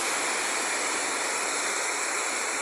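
Heavy rain with running floodwater in a street, a dense, steady rushing hiss without breaks, loud and close, with no talking.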